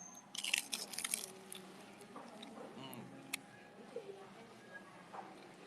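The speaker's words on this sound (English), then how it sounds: "So I've got to crunch it on camera." Crunchy bites into a fried snack with a crisp, corn-dog-like crust, close to the microphone; a cluster of loud crunches early on, then quieter chewing with soft mouth sounds.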